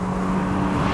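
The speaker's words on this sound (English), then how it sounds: "And man, does it sound every bit of a Ferrari" Ferrari Roma Spider with a small-displacement V8 and equal-length headers, giving a loud, steady engine drone with a low humming tone held through a brief moment of driving.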